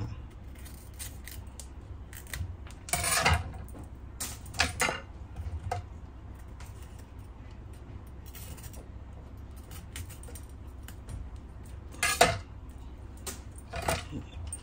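A knife slices through white bitter melon, making several crisp cutting and clacking strokes on a board, some in quick bursts and others spaced out, with faint background sound between.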